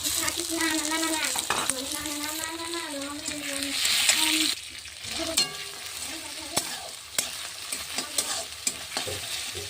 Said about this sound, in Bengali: তো আমি দেবো টমেটো।